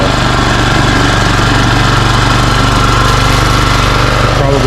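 An Exmark commercial lawn mower engine runs loud and close with a steady, even drone and no pauses, and no talk is heard over it.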